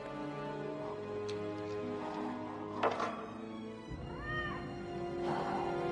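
Cat meowing in the film Darkman, several drawn-out, wavering meows over a tense, droning musical score, one rising and falling cry clear near the middle.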